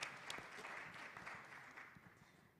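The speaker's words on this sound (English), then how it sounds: "let's just give a round of applause to the organizing" Conference audience applauding at a pension supervisors' event, a dense, even patter of many hands clapping, moderately distant and fairly quiet, steady for a few seconds without speech over it.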